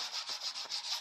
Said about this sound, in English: and sand the old wax.